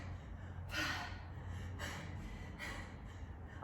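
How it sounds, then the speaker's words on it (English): Forceful breaths out during a weight workout, three sharp exhalations spaced about a second apart, close and moderately loud against a low background hum. "Breathe out, breathe out"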